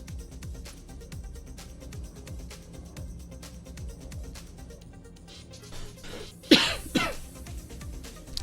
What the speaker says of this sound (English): Hopefully I didn't injure your eardrums with that cough.